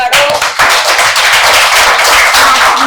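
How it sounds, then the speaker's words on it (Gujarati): A roomful of children at an emotions workshop claps for a girl named Nancy, loud dense applause close by that runs the whole time with no talk over it. "નેન્સી માટે તાળી પાડો"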